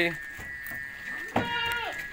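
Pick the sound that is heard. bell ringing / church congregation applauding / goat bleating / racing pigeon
goat bleating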